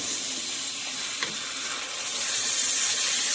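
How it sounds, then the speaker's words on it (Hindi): Masala frying for chicken liver (kaleji) curry: a steady, close sizzle and hiss fills the whole stretch, growing slightly louder toward the end, with no voices. "पहले हम मसाला जो है वो अच्छी तरह से भून कर तैयार करते हैं"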